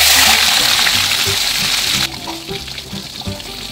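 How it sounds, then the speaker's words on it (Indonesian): Fish frying in a pan, a loud, dense sizzle that drops off sharply about halfway through, then continues as softer crackling and spitting of hot oil. "Oke, sekarang aku akan goreng sisanya."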